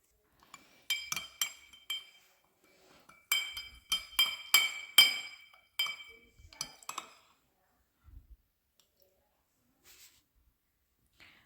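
A spoon stirs a mixture in a glass, giving bright, close clinks in quick irregular bursts that then thin out to a few soft taps and near silence.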